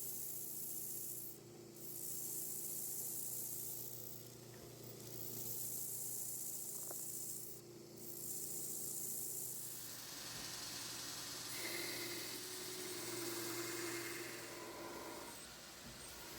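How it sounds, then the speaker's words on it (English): A surface grinder on automatic feed, coolant pump running, grinding the top and bottom faces of a Bowie knife blade: a steady rubbing, hissing grind with periodic swells as the table sweeps back and forth, alone without talk. "Using my other surface grinder, I am surface grinding the top and the bottom."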